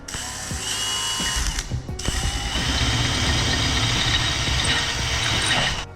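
Drill with a tap cutting new threads into a Brembo brake caliper on a Subaru STI, a steady close mechanical grinding with ratcheting clicks and a brief pause near the middle, no talking.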